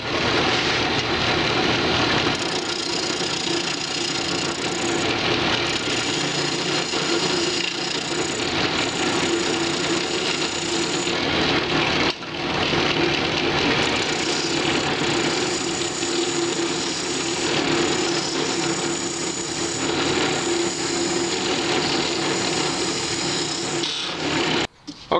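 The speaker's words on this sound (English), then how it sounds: "I'm going to go ahead with my roughing gouge and my spindle gouge just for this bit here" Wood spinning on a lathe while a roughing gouge and spindle gouge clean up the top of a carver's mallet, a steady loud scraping hiss of cutting that runs almost without pause, with a brief break midway.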